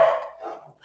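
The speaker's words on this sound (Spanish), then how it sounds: "ahora se van a escuchar un perro ladrando" A dog gives a single short bark nearby that fades quickly, with a faint click at the end.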